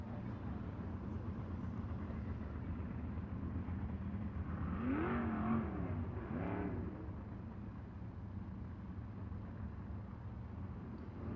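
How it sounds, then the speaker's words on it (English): Race cars circling the dirt oval at Arizona Speedway during the Copper Classic, packing the damp track: a steady broad engine drone throughout, swelling briefly with a couple of nearer revving passes in the middle. "we're going to roll these cars around, try to pack that in a little bit"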